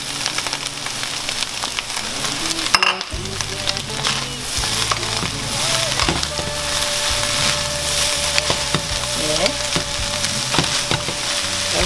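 Bamboo shoots are stir-fried in a pan with a continuous loud sizzle, and a spatula scrapes and clacks through it. A brief sharp knock near the start breaks the steady frying, and no one speaks.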